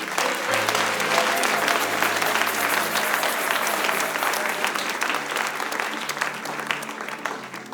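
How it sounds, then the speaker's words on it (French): A church congregation bursts into dense, steady applause with cheering voices, loud at first and slowly fading over several seconds. "Acclamez encore pour la parole."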